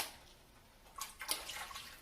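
Chicken stock poured into a cooking pot for egg drop soup, a soft liquid splash that builds after a quiet start and continues steadily to the end, close by with no talk.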